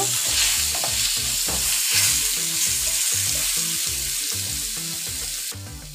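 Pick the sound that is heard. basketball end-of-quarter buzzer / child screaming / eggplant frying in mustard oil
eggplant frying in mustard oil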